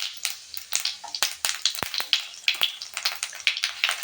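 Mustard and cumin seeds spluttering in hot oil, a rapid run of sharp crackles and pops close up, steady through the clip with no talking.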